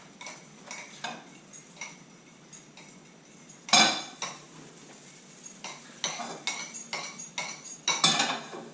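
A fork clinks and scrapes against a bowl, whisking milk into beaten eggs for an omelette, the quick irregular taps growing busier and louder toward the end, with no talk.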